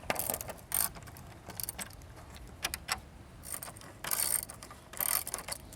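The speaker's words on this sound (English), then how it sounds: "remove these hinges and then get our gate out of the way" Hinge bolts come out of a sagging wooden fence gate with a ratcheting tool, giving bursts of rapid metallic clicking that start and stop several times, fairly close and alone.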